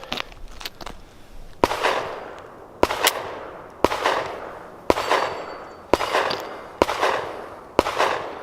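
Intratec Tec 9 pistol fires seven sharp, loud single shots at a steady pace about one second apart, each crack followed by a short echoing decay, with a few faint clicks and handling sounds before the first shot.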